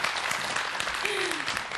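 A lecture audience claps steadily, a dense and even burst of many hands filling the room at close range.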